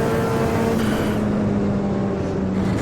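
A Mazda MX-5 on big tires drives on a track, its engine a steady loud drone with road and wind roar, the pitch shifting slightly as it runs.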